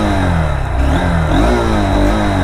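Honda Hornet 2.0 motorcycle engine running with a steady, loud mid-pitched drone that swells slightly as it revs, heard close and continuous with no talking.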